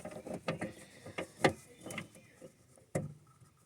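An LED headlight bulb pushed into and twisted inside the headlight housing of a 2018 Ford Escape: a series of close, sharp plastic clicks and ratcheting snaps, with a final firm click near the end.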